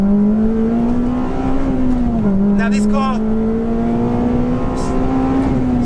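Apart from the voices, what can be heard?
Honda FD2 Civic Type R accelerating, four-cylinder engine revving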